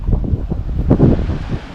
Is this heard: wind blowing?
yes